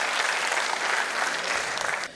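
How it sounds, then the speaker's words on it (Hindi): An audience claps steadily at a Hindi-Urdu poetry recital (kavi sammelan), dense, continuous applause filling the whole moment before it tapers off at the end. "आप एक बार तालियां बजाएं"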